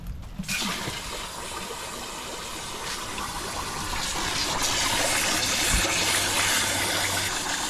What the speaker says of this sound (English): I'll just put a bit more water in here.